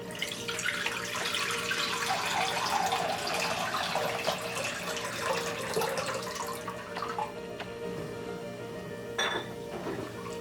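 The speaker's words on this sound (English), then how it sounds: "for sheera you need water in the pan" Water runs continuously from a tap into a metal pan for making semolina halwa, with occasional light clinks of cookware; the flow softens toward the end.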